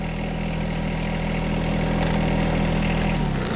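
A John Deere 1025R compact tractor, fitted with a mower deck and front loader, runs steadily at a constant idle, with a loud, even drone that drops off sharply at the very end.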